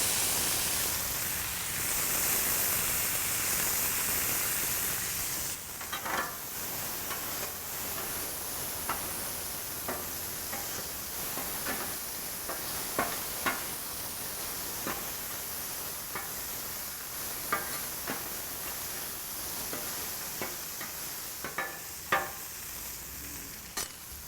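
Sweet onion and roasted, diced hatch chilies sizzle softly on a Blackstone griddle, a steady quiet hiss broken by scattered light scrapes and taps of a spatula.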